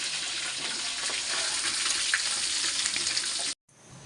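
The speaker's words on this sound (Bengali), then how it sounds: "কাঁকড়া ভাজার সাথে সাথে পা গুলানো ভাজা নিছি" Crab pieces and their legs frying in hot oil, a loud steady sizzle that fills the clip without a break before cutting out sharply near the end, with no voices.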